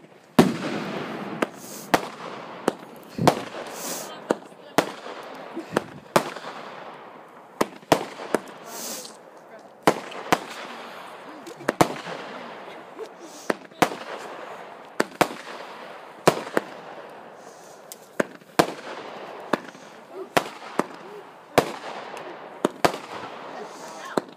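New Year's fireworks bursting in a steady outdoor barrage of sharp bangs and crackles, dozens of loud pops spaced a second or so apart over a hissing, crackling bed, with a few faint voices underneath.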